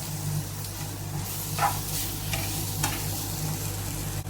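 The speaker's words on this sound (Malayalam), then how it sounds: "അത് ചേർത്ത് കൊടുക്കാം. നന്നായിട്ട് ഇളക്കി ചേർത്ത് കൊടുക്കുക." Tomato is stirred into masala frying in a pan, giving a quiet, steady sizzle with a couple of soft scraping strokes from the spoon.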